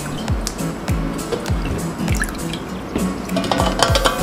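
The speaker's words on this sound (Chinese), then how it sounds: "往锅里倒入水分，一碗矿泉水" Mineral water poured from a bowl into a cooking pot in a kitchen, a wet splashing trickle with repeated dripping pulses running steadily throughout, close and fairly loud with no talk.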